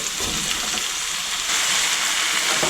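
Potatoes and meat fry in a pan with paprika for a schupfnudeln dish, producing a loud, continuous sizzle with faint stirring textures throughout and no voices.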